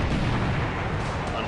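Shell hit striking the ship Suzuya in a naval video game set in January 1942, a dense, sustained roar of low rumbling blast noise with heavy booming weight, loud and continuous throughout.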